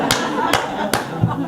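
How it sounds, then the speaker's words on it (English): Slow clap from a small group of office coworkers: three sharp, evenly spaced claps about half a second apart, fairly close and loud, with a soft thump afterward and faint room noise between them. "They gave me the slow clap,"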